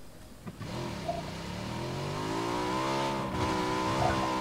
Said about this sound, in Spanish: Pues la moto anda demasiado rápido.